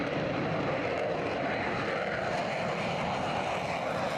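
Demonstrator jet aircraft from Boeing and Lockheed Martin flying overhead, a steady, loud roar of engines holding constant throughout with no voices.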